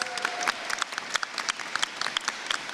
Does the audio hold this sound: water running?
no